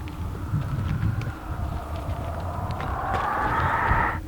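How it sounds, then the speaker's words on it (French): Wind blowing steadily in a prohibition-era themed setting, a broad continuous rush that swells and grows louder toward the end, with low rumbling underneath and no talk. "Oh, c'était juste le vent"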